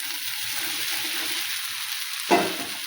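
Dal tipped into a hot pan of oily palya sets off a steady, close sizzle, with a sudden louder crackle near the end as it lands and fries.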